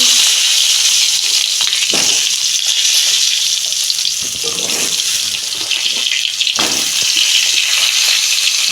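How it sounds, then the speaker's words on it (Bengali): Mixed vegetables fry in oil left over from frying eggs, giving a loud, steady, close sizzle broken by a few scraping stirs. "ওই তেলে সবজিগুলো ভেজে"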